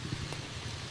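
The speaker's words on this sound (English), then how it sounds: "The rain is very heavy here in Mexico City" Heavy rain falls steadily in a marginalized area of Mexico City, a dense, even hiss with a low rumbling undertone, continuous and moderately quiet throughout the short moment.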